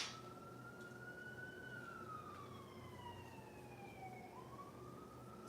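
A police car siren passes by in the distance, its steady wail sliding downward in pitch as it moves away, then rising slightly again near the end over a constant low hum of background noise.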